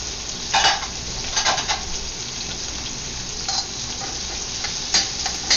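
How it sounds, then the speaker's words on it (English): Garlic and onions frying in oil in a pan for a beef and green bean stir fry, with a steady sizzle broken by scattered scrapes and clinks as a utensil stirs them close by. "You want to stir it around, brown the garlic a bit. And then you can add the onions, and that will also flavor the oil."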